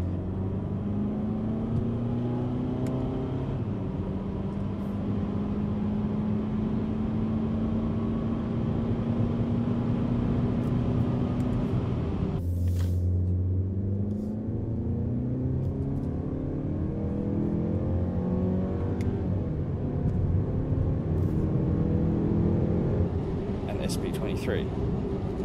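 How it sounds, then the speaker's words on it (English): Cabin of a third-generation Mazda 3 SP25 GT on the move, with a steady low engine and road drone throughout, rising in pitch as the car gathers speed, briefly dipping midway before building again, with a voice talking over it. "Interior cabin noise is vastly improved. Check out this back-to-back video of my Generation 3 SP25 GT."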